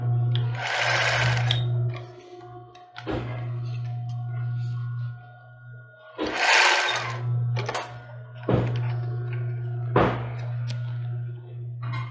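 A domestic sewing machine zigzag-stitches elastic onto a child's bra in several bursts of steady motor whirring. Clunks and short pauses separate the runs, recorded up close.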